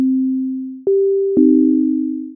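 Synthesized sine tones played in Sonic Pi: a single pure tone, then a higher tone, then the two sounding together, each fading out, clean and alone.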